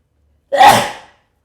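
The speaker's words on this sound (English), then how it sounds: "you and your mum sneeze loud as fuck" A single loud sneeze bursts out after a brief silence, sharp at the start and trailing off quickly, close and alone.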